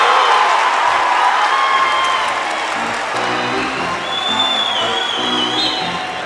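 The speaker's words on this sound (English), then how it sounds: "The crowd loves it." A basketball crowd erupts after an offensive foul call at an Eagles home game against Johnson University Tennessee, loud sustained cheering and applause with scattered whoops, fading slightly toward the end.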